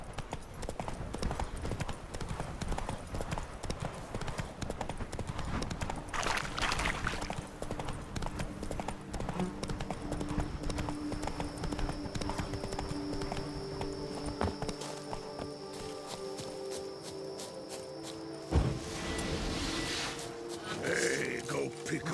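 Roach, a horse in The Witcher 3, gallops with a fast, steady clatter of hooves throughout, mixed with game music and ambient sound, and a sharp thump near the end.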